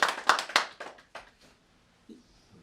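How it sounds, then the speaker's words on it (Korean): A few dozen people in an audience at a Buddhist talk clap in a quick burst of about five sharp claps that fade into scattered softer taps, followed by quiet. "이해가 될 때는 박수 한번 치고"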